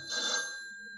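A telephone bell rings once in a domestic movie scene, a bright metallic ring that swells and then decays into a fading tail, heard alone without voices.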